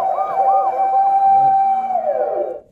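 A person imitates a siren with the mouth during a game show on the RUN BTS variety program, producing a loud, steady wailing tone that rises and falls, held for a few seconds before sliding down and fading out.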